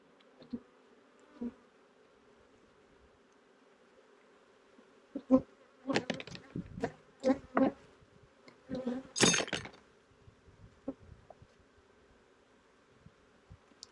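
Honey bees buzz around an opened hive during a varroa mite treatment, a faint steady hum broken by several loud, close buzzing bursts as insects fly past, with occasional light clinks of hive equipment and no talking.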